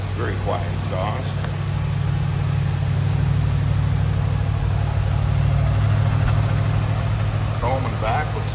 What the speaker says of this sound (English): Very quiet exhaust.